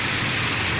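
Heavy rain pours steadily onto a slick city street at a road junction, a dense, even hiss filling the scene close by with no pauses or voices.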